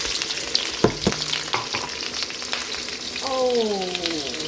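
Garlic and onion fry in oil in a home kitchen, a steady sizzle with a few sharp clinks of a utensil against the pan early on, and a brief tonal whine near the end over the frying.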